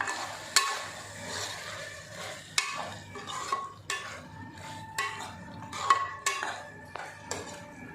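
A metal spoon stirs spicy Kurnool chicken gravy in a pan, scraping and clinking sharply every second or so over a faint sizzle.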